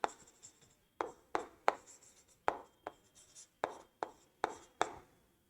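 Chalk taps and scrapes on a board during a physics lecture, about a dozen sharp, separate strokes in an uneven rhythm, close and clear in a quiet room with no voice.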